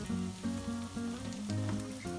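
Chopped onions added to a pan for a Kerala-style beef liver roast sizzle and crackle steadily, with a close, continuous frying hiss and no talking.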